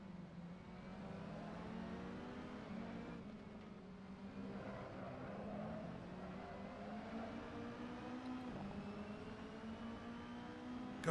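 Modern Mini race car driving on track at the Lausitzring, a steady close engine drone with rising and falling revs throughout, heard from inside the car.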